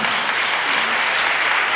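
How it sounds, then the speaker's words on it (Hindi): A church congregation claps hands together in a full, continuous wash of applause, loud and even, with no voices on top. "आप लोग जब ताली बजाते ना तो खुल के बजाया करो"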